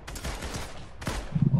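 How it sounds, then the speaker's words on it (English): A Fortnite gun fires in a short burst of cracking shots near the end, over a low in-game background rumble. "As soon as I shot my gun."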